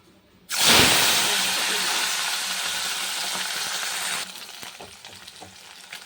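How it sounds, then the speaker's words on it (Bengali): Fish frying in a hot oiled wok: a loud burst of sizzling erupts as it hits the oil, then a steady dense crackle and hiss that drops somewhat quieter near the end, with no voices. "এরকম একটু হয়ে গেছে মাছটা ভাজা।"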